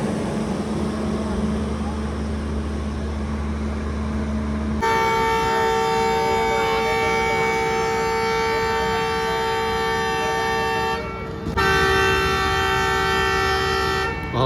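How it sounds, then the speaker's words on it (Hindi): Allama Iqbal Express 10 Down whistles as it pulls out of Pasrur railway station: a loud, close horn blast holds for about six seconds, breaks briefly, then sounds again over low rumbling station noise. "और सेकंड विसल के बाद पसरूर रेलवे स्टेशन को लेफ़्ट करने लगी है जी 10 डाउन इलाहाबाद इकबाल एक्सप्रेस"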